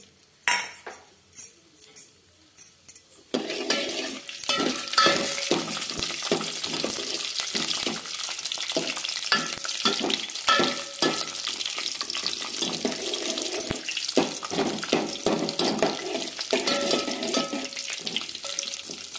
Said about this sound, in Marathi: तर तेलामध्ये आधी बोंबील तळून घ्यायचे.